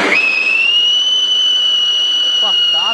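Siren firecracker from Sivakasi going off, a loud piercing whistle that rises sharply and holds a steady shrill tone close by, with short warbling chirps near the end.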